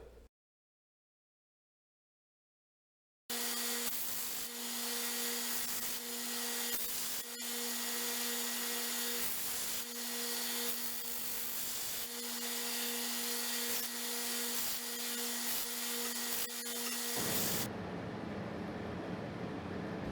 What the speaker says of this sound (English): just take those over to the belt sander and just give all four sides of the legs a little bit of a chamfer